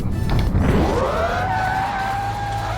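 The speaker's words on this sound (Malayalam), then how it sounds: "കാറിൻ്റെ ഇപ്പോൾ ഇടിക്കും ഇടിക്കും" A car slams into something in the BeamNG Drive driving simulator during an old police car chase, one loud crunching impact followed by metallic scraping and a rising whine as it skids away.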